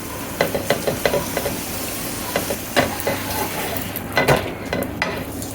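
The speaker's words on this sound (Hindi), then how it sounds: "आप चाहें तो ऑयल में भी सेक सकते हैं और हल्के हाथों से दबाते हुए इसे सेक लेते हैं" A paratha fries in ghee on a flat pan while being pressed down, giving a steady soft sizzle broken by repeated light scraping and tapping sounds close by, with no talking.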